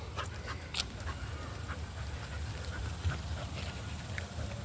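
A dog pants steadily on a walk outdoors among trees, quick soft breaths close by over a low rumbling background.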